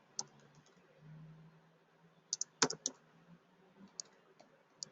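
Typing on a computer keyboard: scattered, close, crisp key clicks, with a quick cluster of taps in the middle and a few isolated presses on either side, in a quiet room.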